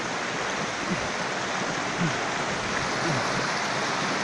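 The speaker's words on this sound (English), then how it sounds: "this is how we are crossing the river" River water flows in a soft, steady rushing wash while someone wades across during traditional fishing on the Lang River, fairly faint, with a few small splashes mixed in.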